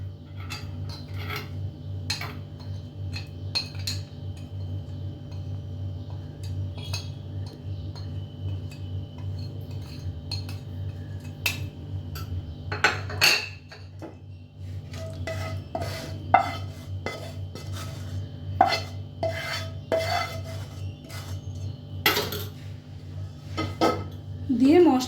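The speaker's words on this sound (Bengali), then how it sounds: "দিয়ে মশলাটাকে ভালো করে মিশ্রণ তৈরি করে নেব।" Yogurt and spice marinade for chicken roast stirred in a bowl, with repeated clinks and scrapes of a spoon against the dish over a low steady hum, busier toward the end.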